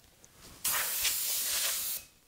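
An airbrush sprays Lemon Yellow Candy 2.0 paint in one close, steady hissing burst of about a second and a half, starting abruptly and cutting off, with a soft click before it and no speech.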